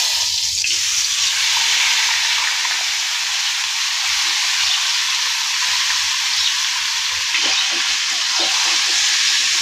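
Meat frying in a pan, a loud, close, steady hissing sizzle that holds evenly throughout with faint stirring knocks underneath and no talk.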